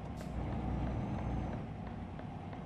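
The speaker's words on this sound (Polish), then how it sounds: "Teraz słyszycie mój odgłos ciężarówki." A DAF truck engine in Euro Truck Simulator 2 hauling a 22-tonne load on the Helsinki–Vyborg route gives a steady, continuous low drone and rumble that holds at a constant level throughout.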